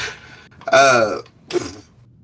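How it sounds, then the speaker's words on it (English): A nervous burp from a man just before a Pokémon game playthrough, a single croaky belch of about half a second followed by a shorter second gulp, fairly close and alone without talk. "Hang on, I might have to burp. It's a nervous burp."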